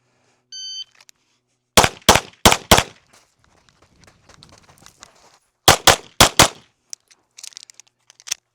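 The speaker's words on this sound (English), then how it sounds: "We're going to shoot each target with 2 rounds on the uprange side of this stick." Sharp, close gunshots at a shooting range during a target drill: after a brief start beep, four quick evenly spaced shots ring out, footsteps follow, then another group of four rapid shots and faint handling noises.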